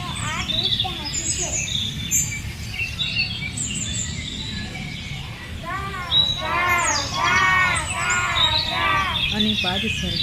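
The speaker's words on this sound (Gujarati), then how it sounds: "ઝાડના ઝુંડમાં પંખીઓ કલગાન કરે છે." Birds call from clumps of trees beside a lake in a school children's play, with bright chirps and warbling phrases that grow busier toward the end over a low murmur of background voices.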